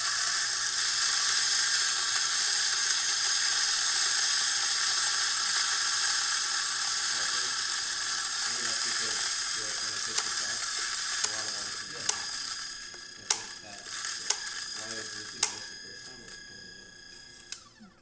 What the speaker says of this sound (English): So I'm just gonna grind some coffee just to show you that everything's working